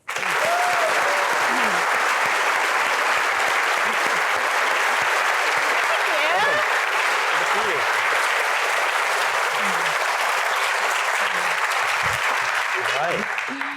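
Sustained applause from a large university audience welcoming a speaker onto the stage, dense and steady for the whole stretch, with a few voices calling out faintly within it.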